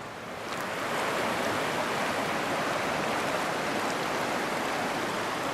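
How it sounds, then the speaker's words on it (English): The Upper Elk River flows along a scenic stretch just downriver of a creek mouth, making a steady, full rushing wash of water that rises in the first half second and then holds constant with no voices. "What a beautiful stretch of river."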